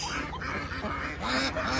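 A Kholmogory goose, a male on the water, honks in short, nasal calls, close by, with outdoor background noise around it.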